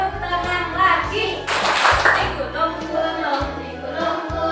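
A group of children and adults clapping along during an action song game, rhythmic hand claps mixed with sung words and music in the background.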